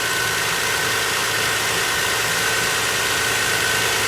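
A 2000 Toyota Sienna XLE's 3.0 liter V6 engine idles steadily, a constant even hum with light mechanical ticking, heard close up under an open hood with no talking.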